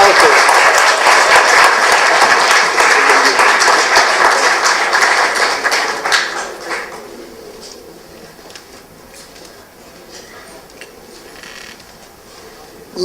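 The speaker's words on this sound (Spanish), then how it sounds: "Vamos a darle fuerte, pero fuerte. No se oye ese aplauso." Audience applause at an evening cultural event, loud dense clapping filling the first six seconds, then fading to scattered claps and quiet room noise with a few distant voices.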